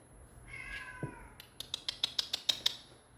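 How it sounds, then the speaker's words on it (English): A pet cat gives a drawn-out meow, followed by a quick run of sharp rhythmic clicks, all fairly close in an otherwise quiet indoor room. "Yeah, you hear my cat."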